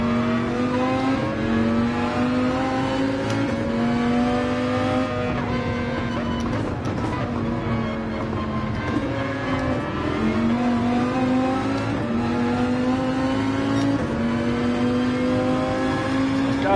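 A race car engine in Gran Turismo 7 holds full throttle, a loud sustained high-pitched drone with slight pitch rises and dips as gears and corners change, continuous from start to finish.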